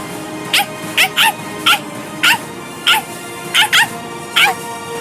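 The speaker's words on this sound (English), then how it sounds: "That's the dog." Dog barking in the video game Bleach Rebirth of Souls: about nine sharp, evenly spaced barks ring out close and loud over a steady low game ambience.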